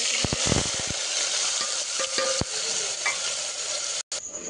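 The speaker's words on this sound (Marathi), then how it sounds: "लालसर होईपर्यंत त्याला हलवून घ्यायचं, तेल सुटूसपर्यंत रंगाचं। बघा छान असं भाजून घ्यायचं।" A masala paste of tomato and onion with turmeric fries in hot oil for chicken rassa, a close, steady sizzle broken by repeated scraping and stirring knocks from a spoon in the pan.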